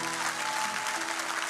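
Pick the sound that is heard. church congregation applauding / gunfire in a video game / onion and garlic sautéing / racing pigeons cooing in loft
church congregation applauding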